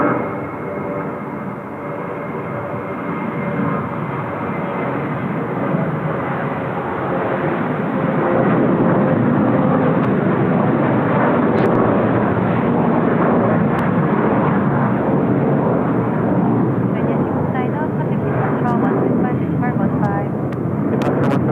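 A Hong Kong Airlines jet turns left after takeoff at Seoul Incheon Airport, a steady broad engine roar that swells slightly and holds at a distance, with a voice talking faintly underneath.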